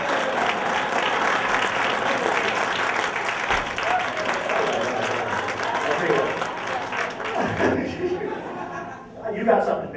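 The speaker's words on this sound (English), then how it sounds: "Give him a big round of applause." A comedy audience applauds loudly and steadily for several seconds, clapping dense and continuous, with cheers and chuckles mixed in before it tapers off.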